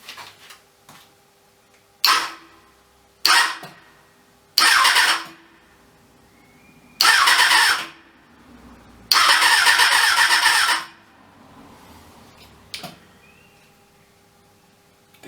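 The rebuilt engine of a Kawasaki ZXR 400 motorcycle cranks over in several attempts, each a burst of whirring starter and coughing engine lasting one to two seconds, with the longest try near the end before quiet returns.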